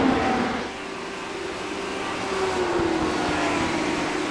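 Race car engines whine steadily in a racing video game, a sustained mid-pitched drone with a faint rising tone as a car accelerates, fairly loud and with no talk over it.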